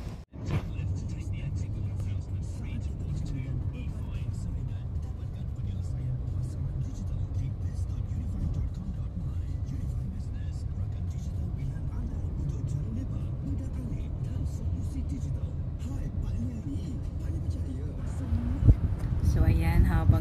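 Steady low engine rumble and road noise from inside a moving taxi, continuous throughout with a brief louder clatter near the end.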